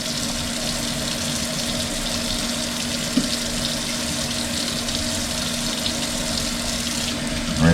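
Running water from a kitchen tap rinsing seeds out of a halved jalapeno, a steady close hiss and splash lasting throughout with no talk.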